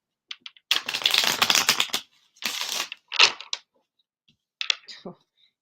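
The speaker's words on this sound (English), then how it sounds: "I was shuffling it and these two cards came out." Tarot cards shuffled by hand in several quick riffling bursts with short pauses between, close and fairly loud, with no talking over them.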